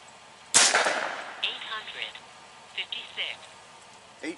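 A single loud, sharp .357 gunshot from a Seneca Recluse fired without a suppressor, with a decaying outdoor echo. Someone speaks over the tail afterward.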